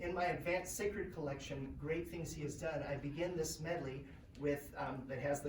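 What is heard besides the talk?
None of the usual background noises is heard.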